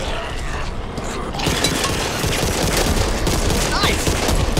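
Dense, continuous mechanical clatter of weapon reloading in a zombie shooter game, sitting under loud in-game gunfire and action noise with a voice briefly present.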